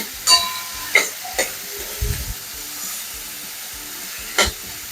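Ridge gourd stir-fried with red chilli and black masala in a pan for a Marathi dal dodka bhaji, with a soft sizzle and several sharp spoon scrapes and clatters as it is mixed.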